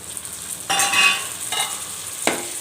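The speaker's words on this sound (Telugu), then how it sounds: "ఈ అల్లం తెల్లగడ్డ కొబ్బరి మనకి పచ్చివాసన పోయేదాకా వేయించుకోవాలి" Ginger, garlic and coconut fry in a pan for a prawn gongura curry, with three distinct scraping stirs that each raise a brief sizzle over a quiet background.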